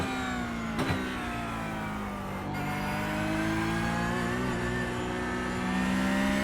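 Porsche 911 Cup race car engine in the iRacing sim, a steady loud high-revving drone holding through a gear with rising pitch, a brief click or shift near the start, no talking.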